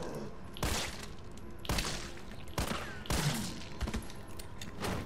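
Automatic weapon fire in Resident Evil 3, several loud bursts of machine-gun shots arriving at irregular intervals over continuous game ambience.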